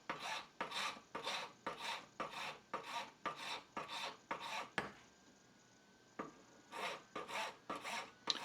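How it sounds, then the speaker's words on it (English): Metal file rasping across a metal brooch frame being reshaped into an amber ring, close rhythmic back-and-forth strokes in a steady series, one brief pause midway before the strokes resume. "And now I'm just going to file it."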